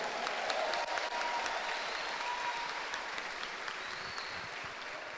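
Church congregation applauding at a finance conference, a dense, steady wash of clapping from many hands that fills the room and holds evenly throughout, with no voices standing out.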